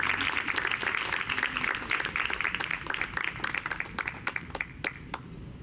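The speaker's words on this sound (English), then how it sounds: "Please, a round of applause for Keisha" An audience at a poetry reading applauds a reader coming to the stage, a dense burst of clapping that thins into scattered, separate claps and fades out near the end.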